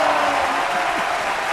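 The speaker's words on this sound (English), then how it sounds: "This is the part where you cheer people." A live audience at a giant snail race applauds and cheers in a dense, continuous wash of clapping, with faint voices underneath.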